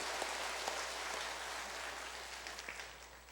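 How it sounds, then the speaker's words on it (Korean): A church congregation gives a steady round of applause to encourage the young people of its youth group, dense and continuous clapping filling the room for a few seconds and tapering slightly at the end. "우리 청년들한테 다시 한번 박수로 좀 격려 좀 부탁드립니다"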